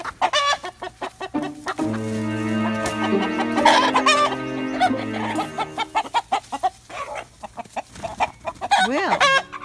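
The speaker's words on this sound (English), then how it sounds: "He's a young rooster." A young rooster and a flock of hens cluck and squawk close by in a kitchen garden, a dense overlapping chorus with rising cries toward the end.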